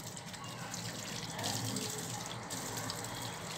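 Water sprays and splashes to rinse out a scrubbed kitchen sink, a close, continuous hissing rush that swells slightly midway and carries on without pause.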